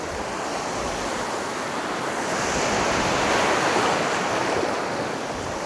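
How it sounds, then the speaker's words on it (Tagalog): Strong ocean waves crash and roll at night during a fishing trip, a continuous loud surf roar that swells slightly in the middle, mixed with wind buffeting the microphone. "Malakas nga ang alon."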